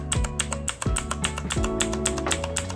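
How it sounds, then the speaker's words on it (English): A computer keyboard's delete key pressed over and over while a PC restarts, giving a steady run of close, sharp taps against a constant electronic hum. "So I'm continuing pressing delete."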